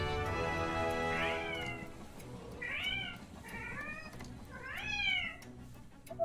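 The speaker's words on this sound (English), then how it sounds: "Cat noises." A cat meows four or five times, each call a rising and falling wail spaced about a second apart, over a steady low background hum with no talking.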